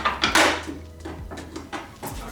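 A zero clearance throat plate being set back into a Milwaukee M18 cordless table saw gives a quick series of close, sharp knocks and clatters of the insert against the saw table.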